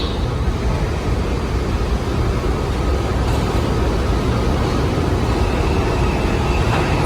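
A New York City subway 5 train pulls into a station with a steady, loud low rumble and roar of wheels and motors, filling the platform without letup.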